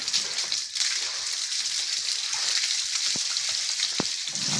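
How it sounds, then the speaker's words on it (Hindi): Hose water sprayed over a cow during bathing, a steady hissing splatter with a few sharp splashes and knocks. "अच्छे से पानी मार देंगे गाइस और इसको फिर धूप में कर देते हैं"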